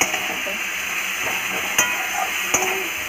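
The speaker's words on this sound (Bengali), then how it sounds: "আচ্ছা পেঁয়াজটা ভাজা হয়ে গেলে লাল লাল করে" Onions sizzle steadily in a hot pan, a constant loud crackling hiss with a couple of sharp clicks from a utensil.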